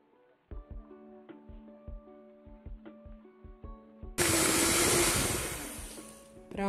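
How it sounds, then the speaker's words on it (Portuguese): An electric hand mixer beats batter for a simple fluffy cake, switching on abruptly after a few seconds of talk and then running as a loud, steady whir to the end. "aqui eu vou usar a batedeira. E vou bater mais ou menos pelos 2 minutos até ficar um creme"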